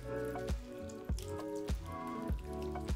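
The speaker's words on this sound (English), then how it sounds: "I'm gonna pour some water on here so that we get some splash action." Water poured over a product set for splashy shots, heard as a steady wet patter with sharp splashing drips landing roughly every half second over a bright tonal backdrop.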